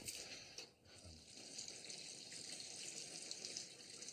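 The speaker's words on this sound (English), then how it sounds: "Give them each a little bit of water." Water poured onto potted plants in a garden, a faint continuous trickling and splashing stream that runs steadily with one brief pause near the start, no voices.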